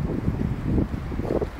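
Strong storm wind buffets the microphone in a brief, close, low rumbling roar with uneven gusts.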